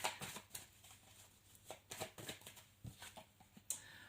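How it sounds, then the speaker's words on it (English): Tarot cards are shuffled by hand in a quiet room, with soft riffling rustles and light slaps coming in irregular bursts, faint and close by. "I'm going to keep shuffling"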